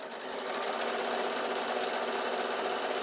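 Sewing machine stitching along the edges of a bag, a fast steady mechanical whirr running continuously at close range.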